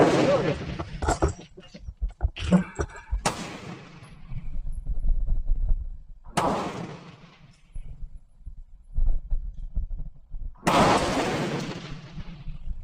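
A Bear Creek Arsenal 5.56 rifle with a 20-inch barrel firing 55-grain Turin ammunition, heard as a few sharp, loud gunshot blasts spaced seconds apart outdoors, with a voice briefly speaking between shots.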